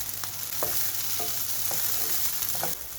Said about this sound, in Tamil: பச்சை மிளகாயும் இப்போ சேர்க்கிறேன். கருவேப்பிலையும் சேர்க்கிறேன்.